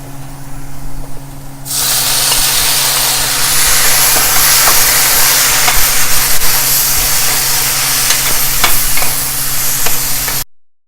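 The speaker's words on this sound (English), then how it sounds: "now I am going to add tomato" Chopped tomato drops into a pan of frying onions, kicking off a loud, close sizzle and hiss with scattered spoon scrapes that continues steadily before cutting off abruptly.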